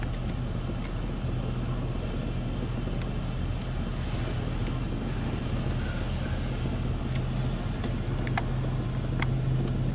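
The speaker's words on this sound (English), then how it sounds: "It's rinsing their car." Ryko Softgloss Maxx automatic car wash at a gas station rinsing a car, a steady rushing wash of water spray with a low mechanical hum running unbroken throughout, heard from nearby with no talking.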